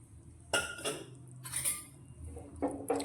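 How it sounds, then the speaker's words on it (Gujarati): Boiled chickpeas are tipped into simmering tomato gravy in a pan, making several short bursts of clattering, clinking and wet tumbling, with quiet gaps between them. "હવે આપણે જે ચણાને બાફીને રાખ્યા છે તે અંદર લઈ લઈશું"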